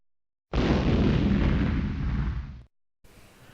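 A grenade blows up in the Banjo-Kazooie game: one loud, full blast that roars for about two seconds and cuts off abruptly, followed after a short gap by a fainter tail.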